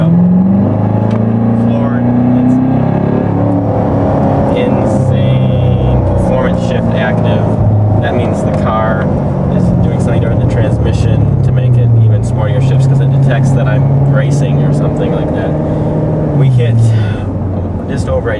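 A 2014 Corvette Stingray with its exhaust in sport mode revs up: a loud, close engine rising and falling through several pitch sweeps, with someone talking over the engine note.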